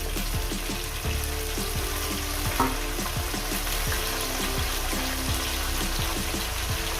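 Green chillies and long beans fry in a hot pan with a steady, loud sizzle, broken by a regular clatter of stirring throughout.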